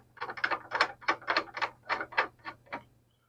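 A reloading die for .38 Special being screwed down into a reloading press gives a close series of about a dozen clicking, ratcheting thread turns in an even rhythm, then stops. No one talks.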